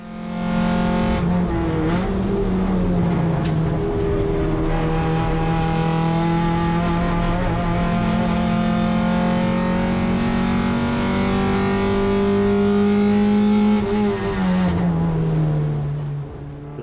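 Winton race car with a new engine holding a loud, steady high rev close by, its harmonic drone shifting slightly in pitch, with sharp exhaust pops and bangs crackling through before it eases off near the end.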